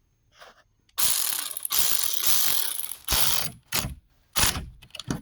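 A hand ratchet tightens a car battery terminal clamp on a battery post, giving loud bursts of rapid metallic clicking in several separate runs with short pauses between them, close up and without talk.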